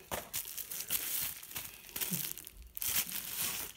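Packaging crinkles and crunches continuously as a parcel of donated knives is unwrapped, close and fairly loud, with irregular bursts of crumpling and tearing throughout and no talking.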